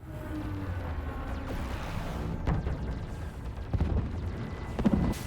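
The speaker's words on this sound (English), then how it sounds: "Oh, he wasn't kidding about the upgraded cannons." Upgraded defense cannons open fire during a battle in Mass Effect 3, booming in heavy, irregular blasts against a low rumbling backdrop, with sharper impacts landing near the end.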